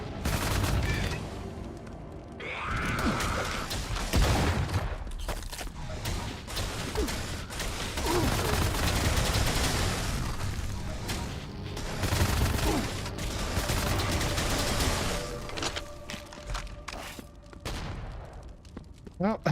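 Shotgun blasts and rapid gunfire pound almost nonstop in a boomer shooter video game, loud and dense with booms and mechanical clatter, while a voice talks over the action.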